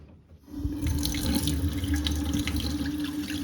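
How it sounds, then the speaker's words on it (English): Water gushes loudly and steadily from a sink faucet, a constant rushing spray with splashing against a basin. "if I start blasting this water from that nozzle right there"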